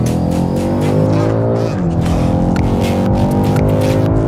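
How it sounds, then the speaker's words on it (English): A BMW M5 Competition accelerates hard during the Isle of Man TT event, its loud engine note rising steadily with a brief dip around a gear change, the strong harmonic roar continuous and close throughout. "And now we can actually start to accelerate and get on."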